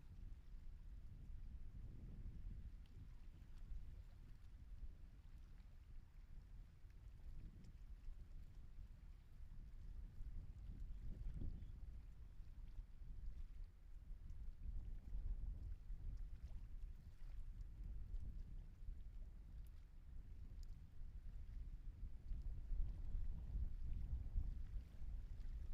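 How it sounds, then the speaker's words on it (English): Steady blustery wind on Florida's Space Coast at a launch site, a continuous low rumble buffeting the microphone with gusts swelling and easing throughout, no voices. "it's a somewhat blustery day here along Florida's Space Coast"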